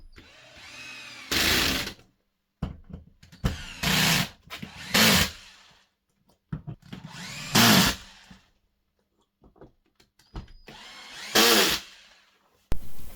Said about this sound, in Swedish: Nu jag täcker locket och skruvar fast.